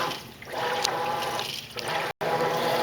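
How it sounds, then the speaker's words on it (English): A Maytag Centennial HE top-load washer's agitator churns clothes in soapy water, a continuous sloshing, swishing wash that swells and eases in slow cycles, close and fairly loud, with no one talking. "Now you see how the agitator is moving?"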